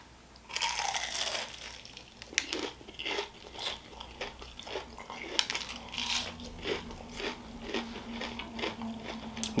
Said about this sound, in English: The crunch is real.